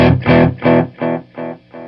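A distorted signal runs through the Belle Epoch Deluxe tape echo plugin with the tape driven hot, giving a series of repeating echoes that fade step by step in level, about six repeats in two seconds.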